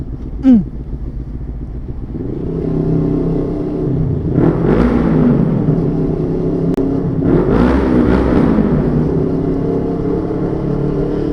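A CFMoto NK400 motorcycle riding through a tunnel, its engine droning steadily with a couple of rising surges as it shifts down, echoing and fairly loud throughout, with no voices.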